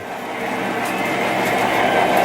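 A model train rolls along its track with a steady whirring rattle and faint clicking, growing slightly louder as it runs close by.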